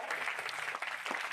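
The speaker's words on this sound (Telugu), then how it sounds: "ఒకసారి చప్పట్లు కొట్టొచ్చా?" A class of children claps together in a dense, steady burst of applause that stays even and fairly loud throughout.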